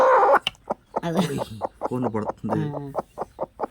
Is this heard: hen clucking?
yes